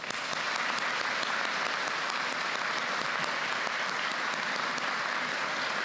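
An audience applauds at a Baptist academy and college commencement ceremony, with sustained, dense clapping from a large crowd filling the hall evenly throughout.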